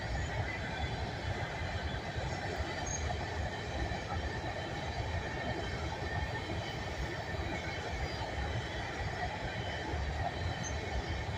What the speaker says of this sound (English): Nice quiet train. I only heard one flat spot.